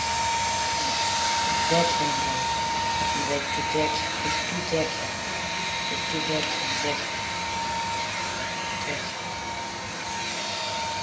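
A new electric fan runs with a steady, loud whoosh of blowing air and a faint high whine, continuing throughout while a person talks over it.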